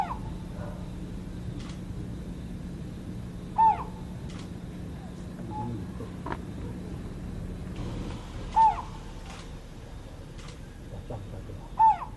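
Collared scops owl chicks call at night with faint, thin whistled notes that repeat every few seconds over a steady low background hum.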